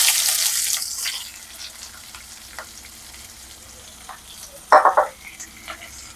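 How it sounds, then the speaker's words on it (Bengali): Onions frying in oil with cardamom and cinnamon for chicken kosha, a bright sizzle that fades into quiet spatter, with a couple of short stirring scrapes and one loud crackling burst near the end. "পেঁয়াজগুলো আমরা হালকা বাদামি কালারের মতো ভাজা হয়ে যাবে"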